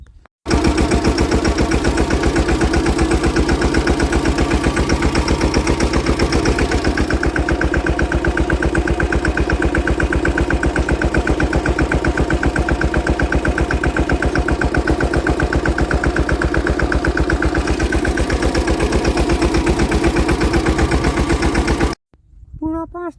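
A tractor engine runs on a peanut farm, chugging steadily and loudly in a fast, even rhythm for about twenty seconds before it suddenly cuts off near the end.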